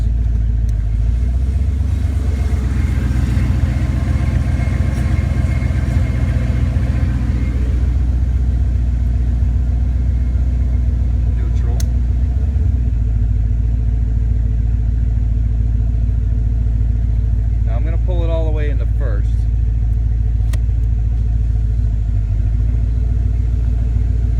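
A black 1993 Ford Mustang LX convertible with the 5.0-litre V8 rumbles steadily and loudly while backing up in reverse, its low engine drone shifting slightly partway through, with a few faint squeaks near the end.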